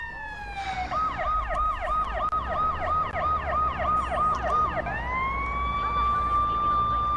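Ambulance siren in the video game Watch Dogs, a loud wailing yelp cycling rapidly up and down, then switching to a long steady rising wail, close and continuous.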